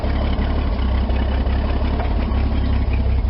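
A 1979 Ford F100 engine idles with a steady low rumble and even, rhythmic pulsing, loud and close, running smoothly with no speech over it.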